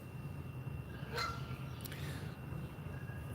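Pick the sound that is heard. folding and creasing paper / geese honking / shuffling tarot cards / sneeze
geese honking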